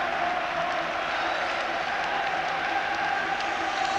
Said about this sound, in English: applauding the Rangers fans.